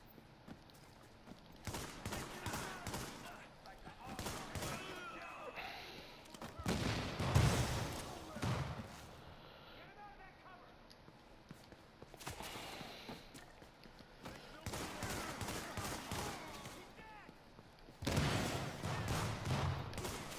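Gunfire in the video game Tom Clancy's The Division comes as repeated bursts of shots at moderate loudness, mixed with footsteps and other game sounds, in several clusters across the clip.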